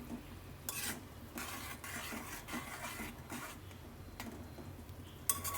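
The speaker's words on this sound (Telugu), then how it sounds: "మసాలా మొత్తం వేసేస్తుంది మమ్మీ. ఓకే, మంచిగా మిక్స్ చేసుకోవాలి." Masala being stirred into ivy gourd fry in a pan, with a soft steady sizzle and repeated scraping sweeps of the spoon at close range, with no voices.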